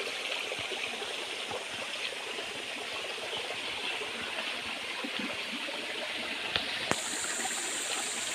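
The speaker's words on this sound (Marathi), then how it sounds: "व्हाळाला आता पाणी थोडंसंच चालू झालं आहे पाऊस थांबला आहे" A small stream carries its first water after the early rains, a continuous soft rushing trickle heard alone at moderate distance, with a couple of faint clicks near the end.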